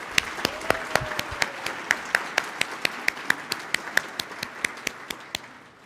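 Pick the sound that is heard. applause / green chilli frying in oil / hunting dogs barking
applause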